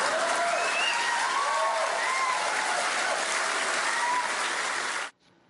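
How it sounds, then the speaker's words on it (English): A large crowd at a speech bursts into sustained applause and cheering, a dense, even roar with faint shouts and whistles. It holds steady for about five seconds, then cuts off abruptly. "the crowd is cheering and laughing at Donald Trump"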